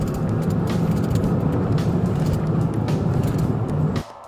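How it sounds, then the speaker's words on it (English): A vehicle fleeing police speeds up rapidly with a loud, dense engine and road roar that holds steady, then cuts off abruptly just before the end. "Vehicle is speeding up rapidly."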